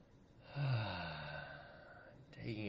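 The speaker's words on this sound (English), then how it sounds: "Taking a breath" A single slow breath taken in a quiet room, a soft drawn inhale and sigh-like exhale heard up close with no talking.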